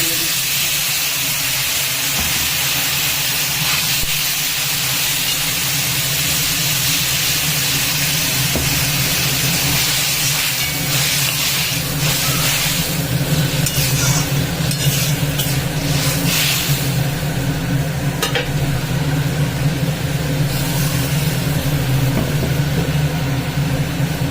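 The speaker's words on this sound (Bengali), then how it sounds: "এটাকে একটু নাড়াচাড়া করে নিচ্ছি মশলাটাকে একটু ভেজে নিচ্ছি" Ground cumin and other spices fry in a pan as they are stirred, making a continuous loud sizzle and hiss with scraping and clatter from the stirring, close by, and no talking.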